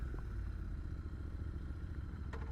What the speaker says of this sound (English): And this is me now starting my bike.